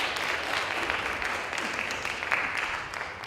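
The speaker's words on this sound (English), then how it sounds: "Give a round of applause, folks." Audience applause at a high school debate event, a steady wash of many hands clapping at moderate volume throughout, with a faint murmur of voices underneath.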